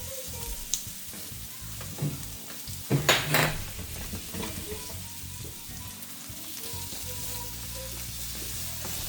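Garlic, onion and ginger sauté in a hot pan for a Jamaican steamed fish dish, a steady sizzle running throughout with clinks of a utensil against the pan and a burst of louder stirring near the middle.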